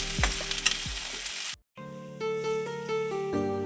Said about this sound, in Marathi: पावटा असा सुगंध येईपर्यंत हलकासा भाजून घ्यायचा।